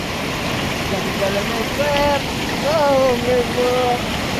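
A river swollen by heavy rain rushes toward Wasardi village, giving an even, continuous roar of floodwater throughout. Voices talk and call out over it.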